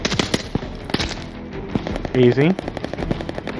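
A gun in Call of Duty Vanguard is tap-fired, giving a quick run of close, sharp single shots in uneven succession, with a short spoken word partway through.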